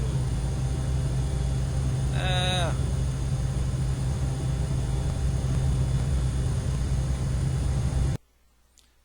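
A propeller plane engine in Microsoft Flight Simulator X drones evenly and loudly, a voice briefly exclaims partway through, and then the engine sound cuts off abruptly near the end.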